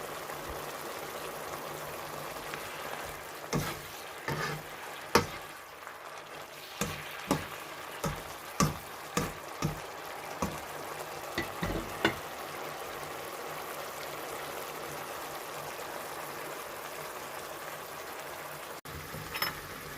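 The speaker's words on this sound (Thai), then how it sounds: "ก็ผัดส่วนผสมทุกอย่างให้เข้ากันนะคะ ให้เขาเดือดแล้วก็สุกค่ะ" Kale stir-frying in oyster sauce with a little water, a low simmering hiss under a run of distinct spatula knocks and scrapes against the pan, close and fairly quiet, then the stirring stops.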